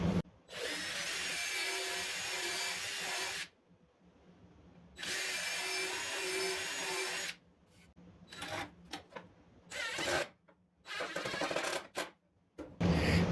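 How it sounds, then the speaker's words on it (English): Power drill boring pilot holes and driving screws into a wooden table saw spline jig, two long steady whining runs followed by short bursts of trigger pulses, close and loud. "So what I'll do is I'll just drill and screw in screws"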